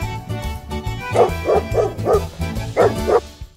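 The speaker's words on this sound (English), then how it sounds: "D for dog." A dog barks six times in a quick, evenly spaced series, clear and up front over bouncy backing music in a children's alphabet song.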